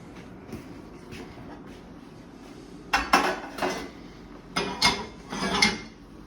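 Kale is stirred with bacon and lemon pepper in a pan, giving several close, rough scraping strokes in irregular bursts over a low steady background hum.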